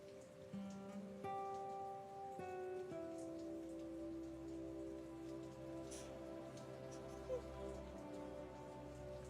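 Steady rain falling on a surface, a soft continuous patter heard beneath gentle music with sustained tones.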